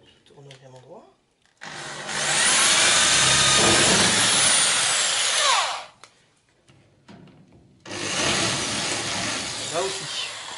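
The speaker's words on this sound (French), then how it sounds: "De 2 mm. Et ce coup-ci, je perce définitivement." A drill with a 2 mm bit works on the body of a Citroën Traction 11B in two loud, sustained bursts of high whirring separated by a quiet gap, with a voice speaking briefly between them.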